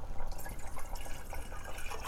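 Water poured into a pot of vegan lasagna sauce, a steady liquid splashing and burbling that runs for about two seconds at close range, fairly loud and with no voices.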